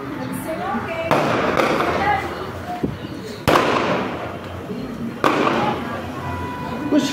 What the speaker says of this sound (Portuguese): Mó tiroteio